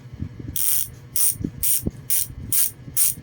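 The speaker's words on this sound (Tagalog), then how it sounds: "itong tunog ni Hasen Pro 7" A Hassns Pro 7 freehub ratchet on a bicycle clicks in six quick, crisp bursts of sharp metallic pawl ticks, close up, with faint low knocks in between and no talking.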